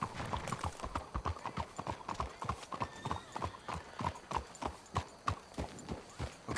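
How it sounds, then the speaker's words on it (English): Horse hooves clip-clop in a quick, steady rhythm in the video game Red Dead Redemption 2, several horses trotting close by and moderately loud, with a brief faint voice. "Let's hitch your horses up ahead."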